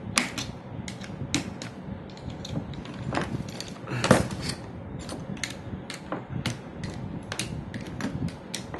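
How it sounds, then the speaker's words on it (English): Screwdriver pressing battery cells down flat into a BatteryBlocs holder, a string of sharp plastic clicks and snaps at irregular intervals, close and crisp over faint handling noise. "I just go through with the screwdriver here and go down and just set them down flat"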